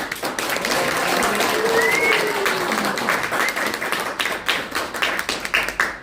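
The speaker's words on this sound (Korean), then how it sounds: "다시 한번 큰 박수 부탁드립니다." Audience applause fills a campaign office opening ceremony for a National Assembly candidate in Yongsan, a steady dense clapping from a crowd indoors, with a brief voice rising over it partway through.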